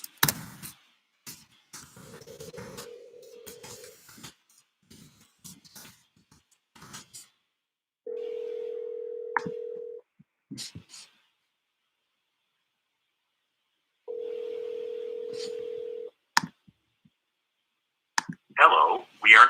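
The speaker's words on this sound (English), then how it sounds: "I'll give her a call now, see if I can open up the conversation a little bit" A phone call placed to follow up a wholesale real estate lead: scattered dialing clicks, then two long steady ringback tones separated by silence, with a short burst of voicemail sound at the end.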